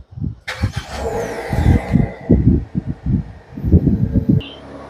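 A GAC Emzoom's engine cranks and catches via remote start, then runs with a rough, pulsing idle close by, ending with a short high chirp.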